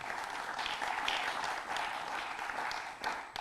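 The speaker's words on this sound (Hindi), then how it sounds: "इनके लिए भी आप तालियां बजाएं" Audience applause at an Independence Day Urdu poetry gathering on stage, a steady wash of clapping from many hands that holds at an even level for the whole stretch, with no voices over it.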